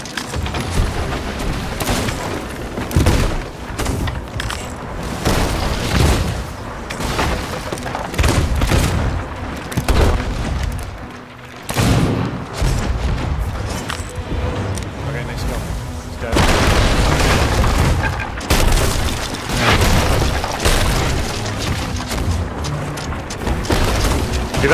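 Repeated loud ship cannon blasts boom through a naval battle in a pirate-ship video game, firing in dense overlapping volleys with constant gameplay clatter.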